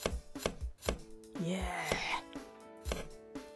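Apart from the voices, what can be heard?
chopping onions with a knife in the video game Cooking Academy Fire and Knives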